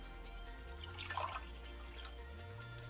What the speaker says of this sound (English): We will go ahead and pour some into the cup here.